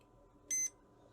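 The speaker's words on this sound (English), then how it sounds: "You see, you get a single beep." A multimeter on continuity test gives a single short, high electronic beep while probing a Trojan treadmill control board, otherwise near silence.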